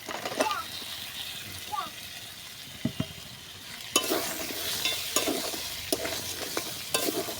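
Fried crabs are tipped into spice masala in a pan and stirred, giving a soft oily sizzle broken by sharp scraping clinks of the spoon against the pan, close and fairly quiet.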